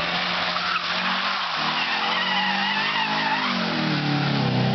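Tires squeal in a long, sustained screech from a car being pushed hard, the pitch sliding and wavering over nearly five seconds with steady loudness and no talk.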